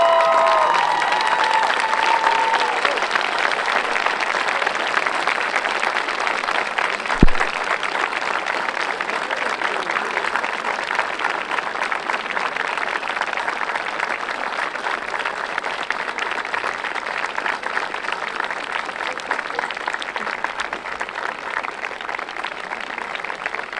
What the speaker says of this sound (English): I now ask the graduating class to stand up and turn around and clap and thank them.